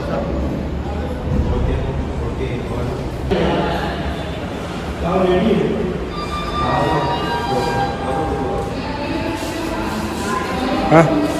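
Rumbling train noise at the Nepal–India border, with rattling carriages and a steady low drone, voices talking over it, and a brief sharp squeal near the end.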